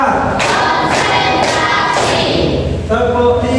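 Students in a classroom clap together in an ice-breaking counting game, with four loud, evenly spaced bursts of group clapping mixed with talking.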